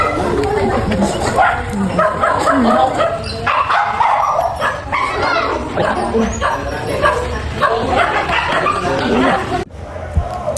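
Several dogs bark, yip and whimper in a crowded line at a free anti-rabies vaccination drive for pet dogs and cats, a steady busy clamor with people chattering throughout.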